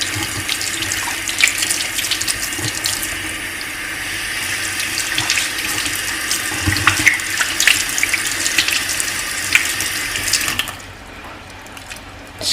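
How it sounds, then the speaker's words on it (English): Warm tap water runs steadily into a sink to rinse a brush-cleaning mat, a continuous close hiss and splash that stops abruptly near the end. "I'm going to go ahead and rinse it with some warm water"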